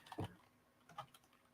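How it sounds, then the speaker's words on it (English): Keys being typed on a computer keyboard, a few soft scattered clicks in a quiet room, faint and somewhat distant, with no talking. "I hear Heather typing"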